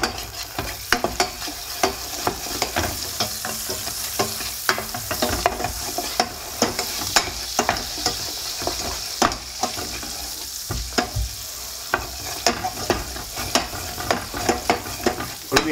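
Butter and plain white sugar melting and sizzling in a pot, a loud continuous crackling sizzle broken by frequent clicks of a spoon stirring, close and with no talking.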